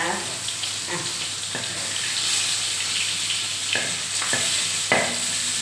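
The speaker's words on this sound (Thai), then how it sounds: "ทอดแป๊บเดียวก็ได้กินแล้วนะคะปลาทู" Mackerel frying in hot oil in a home kitchen, a steady sizzle with occasional stirring and scraping clicks, fairly close and continuous, with no talking over it.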